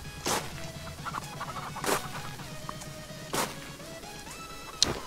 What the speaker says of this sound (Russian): Размножение куриц.